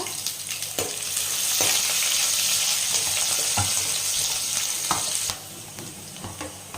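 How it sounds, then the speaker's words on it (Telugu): Sliced onions sizzle in a pan of oil with tempering seeds while cooking tomato rice. A loud, continuous frying hiss is broken by several sharp knocks and scrapes from stirring, then the sizzle eases slightly near the end. "తాలింపు గింజలు వేగినాక ఆనియన్స్ వేసుకోవాలి."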